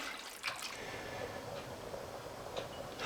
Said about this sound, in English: Once the pot comes to the boil, like it is doing now